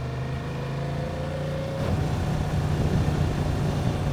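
A 2023 Honda Transalp XL750 motorcycle rides on a pebbly, resurfaced road with a steady engine hum and wind rush, then a rougher, louder grainy rumble from the tyres on loose stones; no one speaks.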